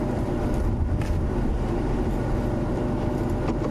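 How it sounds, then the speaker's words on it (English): A safari vehicle's engine idles with a steady, continuous low rumble that stays even and close throughout, with no pauses. "I'm just going to keep the engine running"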